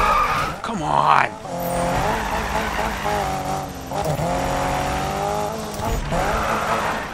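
Tires screech in a handbrake drift in Need For Speed 2015, with a Toyota AE86 or GT86 sliding, a loud sustained squeal with engine drone and shifting pitch, a voice talking over it.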